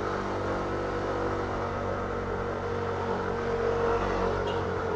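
A vehicle engine strains as it climbs a steep, bumpy road near Baguio City in the Cordillera, giving a steady, loud, labouring drone with a slight surge toward the end and no talking.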